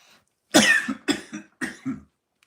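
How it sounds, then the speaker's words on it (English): Three hacking coughs spaced evenly apart, each with a short rough follow-through, close and clear against silence. "excuse me, I have to cough"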